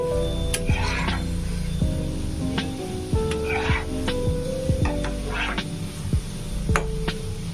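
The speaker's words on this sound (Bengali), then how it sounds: "তো আমি আরও একবার নাড়িয়ে নিচ্ছি" Cheese nimki fry in hot oil in a kadai, a steady loud sizzle with periodic scraping and clanking as a spatula stirs and turns them, repeated strokes every second or so, close up with no talk.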